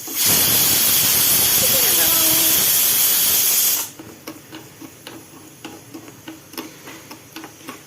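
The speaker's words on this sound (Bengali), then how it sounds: "প্রেশার কুকারের সিটি এক্ষুনি বাজতেই থাকবে" A pressure cooker vents with a loud, sustained whistling steam hiss for several seconds, then cuts off abruptly, leaving soft rhythmic ticking and rattling from the cooker weight.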